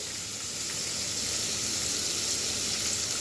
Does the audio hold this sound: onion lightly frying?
yes